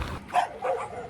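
Dogs bark in a quick pair of short, sharp yaps at mid distance, brief and moderately loud with little else around them.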